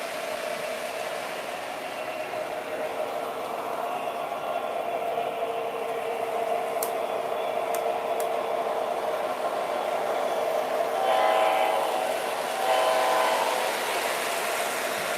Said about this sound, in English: And then the engine cars will take off about now.